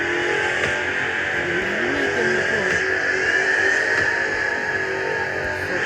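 Engine sound of a car in the Roblox game Car Dealership Tycoon, a loud continuous drone with slight pitch shifts as it revs and drives, steady throughout and without speech.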